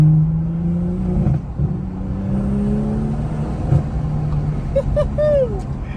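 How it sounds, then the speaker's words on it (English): A car's engine pulls from a low rumble through a rising rev under acceleration, steady and close from inside the cabin, with a brief whine near the end. "Let's put a bit of foot down here."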